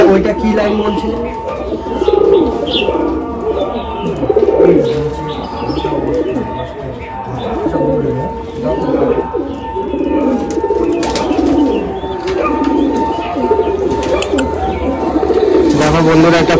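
Old Madrasi pigeons in a loft, a steady stream of low cooing from several birds close by, with occasional chirps and someone talking intermittently over them.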